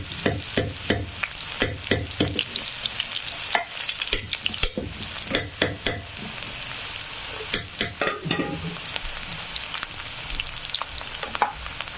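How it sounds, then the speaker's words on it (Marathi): Onion fries in a pan after mustard seeds go in. A steady sizzle runs throughout, broken by repeated sharp scrapes and clanks of stirring. "कांदा छान फ्राय होऊ द्यायचा."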